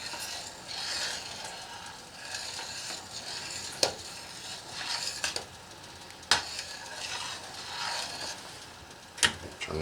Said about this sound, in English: I'm going to keep stirring this because I'm not going to let this thing go wild.